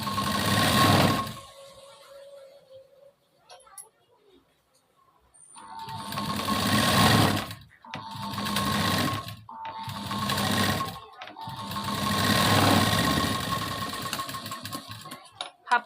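Domestic sewing machine stitching main fabric strips for a katori blouse, running in several short rapid bursts separated by pauses, close and loud, with someone speaking during the quiet gaps.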